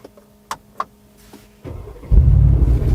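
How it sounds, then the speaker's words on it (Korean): Several sharp latch clicks come first from a 2019 Mercedes-AMG G 63 Edition. The V8 then cranks and fires with a burst, settling into a loud, deep exhaust rumble close by. "이렇게 배기음이 뻥 하고 터지잖아요."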